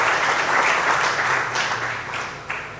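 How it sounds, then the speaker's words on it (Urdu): A church congregation claps steadily for a few seconds during a sermon, a dense, loud wash of applause that gradually tapers off. "اگر خوش ہیں تو تالیاں بجائیں خدا کے لیے"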